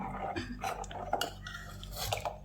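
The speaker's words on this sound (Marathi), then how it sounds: "असं मधून मधून असं स्टीर करायचं हलवायचं" A spoon stirs homemade cow ghee in a pot, giving faint scraping and light metallic clinks over a low steady hum.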